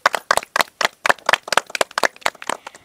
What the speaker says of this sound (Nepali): जोरदार ताली पड्काएर सम्मान गर्दछु